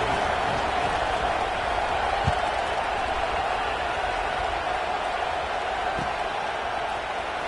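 Football stadium crowd roars steadily after a made extra point, a dense, unbroken wash of distant cheering and murmur with a faint clap or two, sounding somewhat subdued throughout.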